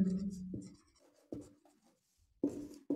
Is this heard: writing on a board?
yes